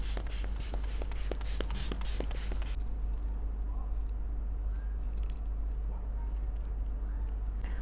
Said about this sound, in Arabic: هاخد الفيكس سبراي ده من بريتي وومن، اهدي بس شكل الباودر شوية.